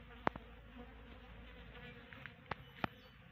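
Apis cerana honey bees fly around after their colony lost its nest to relocation, giving a faint, steady insect hum with a few brief louder buzzes as single bees pass close by.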